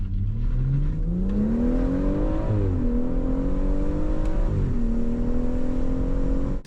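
A rear-wheel-drive BMW M140i launches hard, its loud engine note climbing steadily through the revs with two brief dips at gear changes, close and continuous with no talk.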